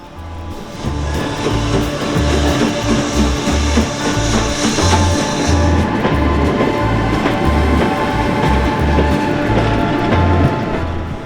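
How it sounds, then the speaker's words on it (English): A steam train rumbles past loudly and steadily, with a rhythmic clatter of wheels over rail joints and a heavy low drone throughout. "one of the main draws from today are the steam trains. There's one coming past now."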